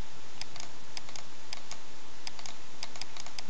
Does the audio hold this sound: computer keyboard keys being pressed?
yes